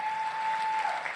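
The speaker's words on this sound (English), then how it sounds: "Lukewarm applause." Lukewarm crowd applause at a CPAC political speech, a steady, soft wash of distant clapping from a large hall, with a thin sustained tone running through it and no speech on top.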